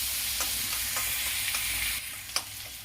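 Green chilli and onion sautéing in a pan as the start of veg cutlets, an even near sizzle with a few light stirring taps and one sharp clack near the end.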